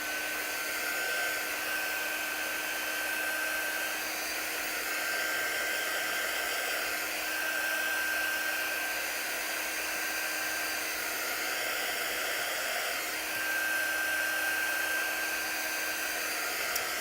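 A handheld dryer blows over a freshly wiped craft board, giving a steady, even whirring hiss with a faint high whine that lasts the whole stretch, close up and with no voices.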